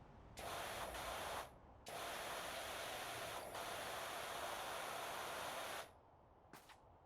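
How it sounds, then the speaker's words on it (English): Pressure washer water jet from PowerWash Simulator cleaning an umbrella, a loud steady hiss in two long bursts with a short break, then a brief tail spurt near the end. "I think the top of this umbrella looks pretty good, so let's spray the underside"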